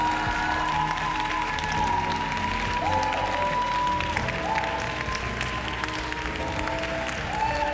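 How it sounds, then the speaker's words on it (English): A worship congregation claps steadily together, a dense, continuous sound of many hands, with faint music tones and a few cheers in the background. "clap your hands for 30 seconds and let's just love him"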